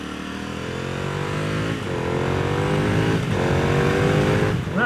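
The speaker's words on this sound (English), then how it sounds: "That blasty moment makes me think the next thing on the list is going to be the exhaust." A motorcycle on its stock exhaust, ridden on the Trans Euro Trail in Norway, revs up loudly and close through several gear changes, each shift dropping the pitch before it climbs again.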